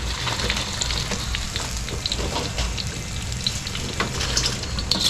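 Fish fillet sizzles in a pan, a steady close hiss of frying oil with light crackles and pops running throughout.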